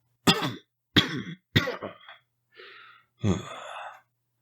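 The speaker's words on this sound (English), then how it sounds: "This is followed by a violent cough." A series of harsh, forceful coughs, three close together, then a raspy breath and a final strained cough, loud and near.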